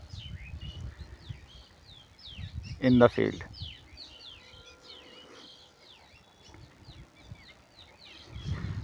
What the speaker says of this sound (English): birds are enjoying